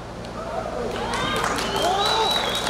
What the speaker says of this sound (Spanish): Un aplauso, por favor, así como lo van pasando.